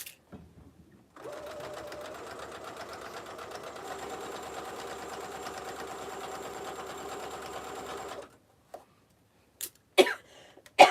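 A sewing machine whirs steadily for several seconds while sewing a belt bag, then stops, followed by a few short, sharp coughs from someone getting over a cold, close by.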